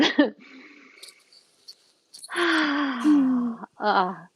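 Deep inhaled breath during a guided energy meditation session, a drawn-out breath heard close up, followed by a brief voiced exhale sound; earlier faint breathy vocal noises precede it.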